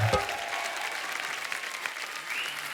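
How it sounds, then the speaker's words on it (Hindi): A studio audience at a comedy show applauds a guest's entrance with dense, steady clapping that starts loud and continues evenly for a few seconds. "जोरदार तालियां नोरा के लिए।"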